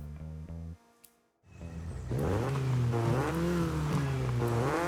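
Mazda MX-5 in Forza Horizon 5 rushing through a gap between shipping containers: after a brief quiet gap, a loud, steady engine note climbs and wavers in pitch, sustained and close.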